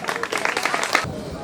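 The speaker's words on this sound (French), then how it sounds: "On peut les applaudir très très fort." Students at the Djibo Sounkalo municipal high school burst into brief, loud clapping for a visiting delegation. The dense claps cut off after about a second, leaving a fading room murmur, with a voice partly mixed in.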